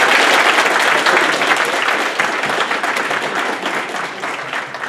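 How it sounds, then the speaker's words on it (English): Conference audience applauding a cryptocurrency panel at a Texas Bitcoin event, a dense burst of clapping that gradually thins and fades. "I hope you will join me in applause for these guys."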